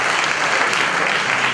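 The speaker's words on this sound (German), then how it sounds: "Euer Applaus." Steady audience clapping fills a dance and ballet school performance hall, a brief, dense burst of applause at even loudness with no voices over it.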